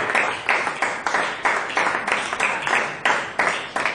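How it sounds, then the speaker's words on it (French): A church congregation gives a short round of applause during a sermon, steady hand clapping with a rhythmic, pulsing feel, moderately loud and with no voices over it. "Est-ce que nous pouvons donner une petite acclamation?"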